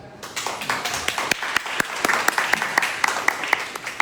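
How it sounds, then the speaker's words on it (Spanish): An audience applauds to welcome a guest at an International Cacao Day event: a dense round of clapping with sharp individual claps standing out, fairly close and steady, with no talking over it. "al doctor Antonio Cruz Coutinho, a quien damos de entrada la más cordial bienvenida con un aplauso."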